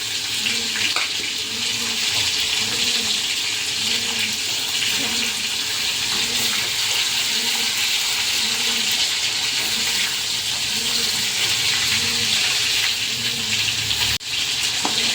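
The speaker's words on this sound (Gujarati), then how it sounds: "પછી એને આપણે પાણી નાખીશું" Water sizzles and hisses as it is poured into a pan of Gujarati stuffed eggplant curry, a steady loud frying wash with a faint rhythmic pulse underneath and no talking.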